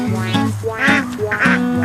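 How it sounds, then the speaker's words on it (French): Ducks in rice fields give several short, close quacks in quick bursts, with no talking over them. "Mais les maîtres des lieux, ce sont incontestablement les canards."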